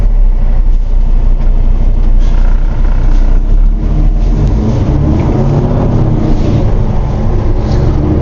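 A 2023 Peterbilt 389 Renegade with a 605 hp Cummins X15 diesel pulls away at low speed, a loud, deep engine drone that rises steadily as the truck accelerates, heard from inside the cab.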